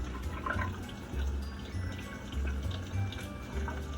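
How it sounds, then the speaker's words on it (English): Tap water runs steadily into a sink during handwashing in a home kitchen while baking cookies, a continuous splashing rush with some dripping, fairly close, with no talk over it. "Washing hands."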